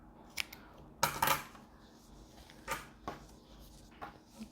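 Scissors snip crochet yarn close to a knot on a finished crocheted net bag, giving one sharp cut followed by a few light clicks and handling sounds in a quiet room.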